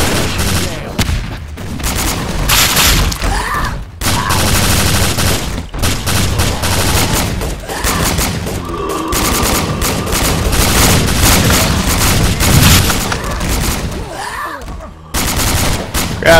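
Gunfire rattles in BrainBread 2, loud sustained bursts of rapid shots broken by brief pauses, close and continuous for the whole stretch.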